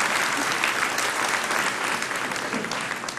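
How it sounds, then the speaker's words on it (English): A large audience applauds at a graduation ceremony, steady dense clapping filling the hall throughout and easing slightly toward the end. "so you should applaud often"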